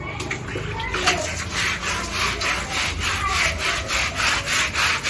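A hatchery pond wall is scrubbed by hand with repeated rhythmic rasping strokes, close and steady, with faint birdsong in the background.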